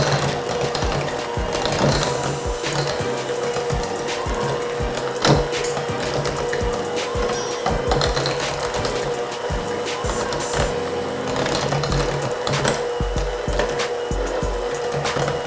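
An electric mixer creams maple sugar cookie dough with a loud, continuous mechanical whir. Clattering knocks and rattles run through it, close up, and no one talks.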